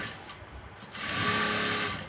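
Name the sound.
sewing machine stitching a blouse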